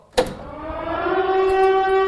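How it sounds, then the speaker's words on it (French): An air raid siren starts with a sharp onset, then drones on a sustained, slowly rising wail that grows steadily louder. "Et ça, c'est une alarme avion."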